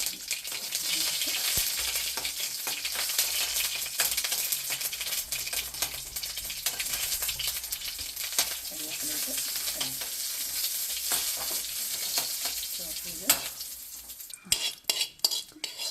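Mustard seeds splutter in hot oil in a small kadai, tempering for a pumpkin pachadi. There is a dense, loud sizzle with rapid crackling pops close by, and a few sharp utensil clinks near the end.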